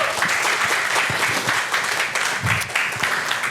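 A training seminar audience applauds themselves, a loud, dense burst of clapping close by that stays full for the whole stretch, with a few louder claps and a brief cheer near the end.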